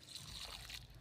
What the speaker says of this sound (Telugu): నీళ్ళు పోసుకొని